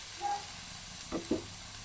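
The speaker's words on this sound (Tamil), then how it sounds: "இஞ்சி பூண்டு எல்லாம் வதங்கினோடனே நம்ம அரைச்சி வச்ச சோயாக்களை சேர்த்துக்கலாம்." Ground soya paste hits a pan of sautéed ginger and garlic, giving a soft sizzle with two brief stirring bursts near the end, quiet and close with no talking.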